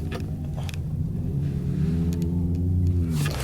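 A Baja Bug off-road car at the King of the Hammers off-road event rumbles steadily up close, its engine note rising slightly partway through with faint clanks, no voices.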